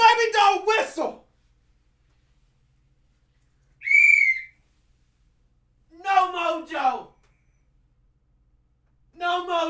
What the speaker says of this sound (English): Little baby doll whistle.